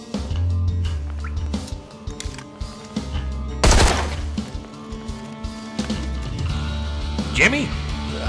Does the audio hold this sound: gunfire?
yes